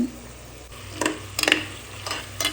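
Tomatoes sautéing in a pan for a coconut oil chicken dish, with soft steady frying under the quiet stretches and several louder bursts of scraping and stirring.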